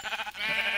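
A sheep in the video game Minecraft gives a single short bleat with a wavering start, close and clear, with no talk.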